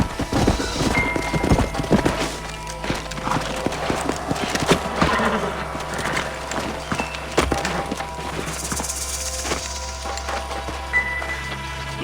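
Several horses clip-clop in the Red Dead Redemption video game, hoofbeats mixed with a neigh and scattered game sounds under a steady background hum, continuous and fairly close.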